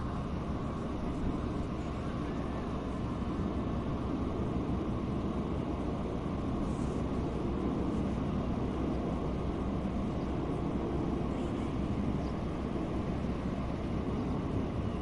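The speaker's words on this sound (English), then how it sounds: "This is the special joint flight past" Steady, broad roar of jet aircraft in a joint flypast at a video game air festival, a continuous even rush of engine noise that holds the same level throughout, with no voices.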